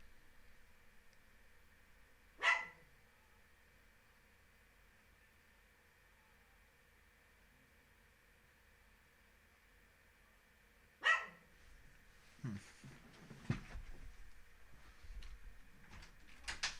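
A dog barks twice, each a single sharp bark about eight seconds apart, followed by faint rustling and shuffling in a quiet room.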